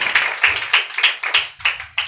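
A church congregation claps together during a Sunday service, about eight sharp, steady, evenly spaced claps, close and clear, with no talk.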